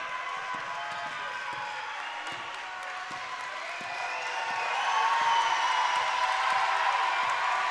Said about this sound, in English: You can hear it from the crowd. They are so excited for their team.